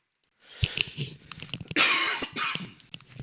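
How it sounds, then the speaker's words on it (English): A person coughs several times in a rough, hacking fit, close up, with a harsh raspy burst in the middle. "this nasty cough"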